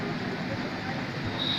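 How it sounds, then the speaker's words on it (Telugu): Train rumbling past nearby, a steady broadband roar with a faint high whine toward the end, heard as a continuous pass with no speech. "అదిగోండి ట్రైన్"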